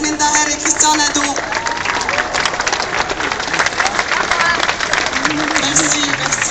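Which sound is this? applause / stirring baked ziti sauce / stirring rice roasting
applause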